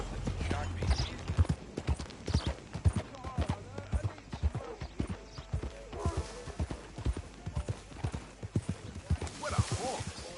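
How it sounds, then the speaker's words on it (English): Horse hooves in the game Red Dead Redemption clip-clop in a quick, steady rhythm, close and distinct, while people talk over the riding, with a few brief snorts or creaks between steps. "What a horse."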